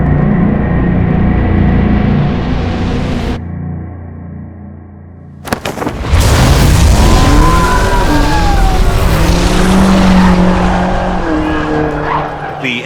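A 6,000-pound BMW XM launches hard from a race start line. A steady engine drone gives way to a brief lull, then a sudden loud surge with tire squeal and a climbing engine note.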